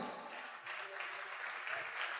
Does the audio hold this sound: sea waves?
no